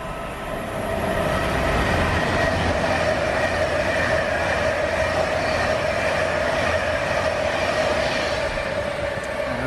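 A passenger train runs steadily, with a continuous close rumble of wheels on rails and a sustained mechanical hum, no voices.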